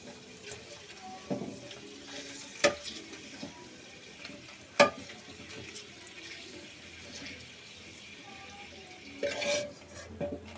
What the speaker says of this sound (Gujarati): પહેલાં બે ત્રણ ભૂંગળા નાખી અને શેક કરીશું કે કેવું તેલ આવી ગયું છે